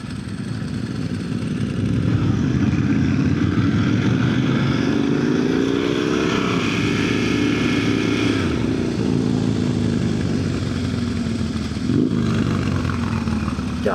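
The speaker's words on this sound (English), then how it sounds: "God, Eric's Harley sounds good" An old Harley-Davidson Evo motorcycle with 2-into-1 pipes rumbles loudly and close on a group church ride, its deep engine note rising and falling as it revs, under constant road and wind noise with no talk.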